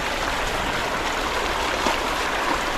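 Strong river current swollen by continuous rain, rushing and roaring steadily, loud and close with a dense unbroken wash and no voices.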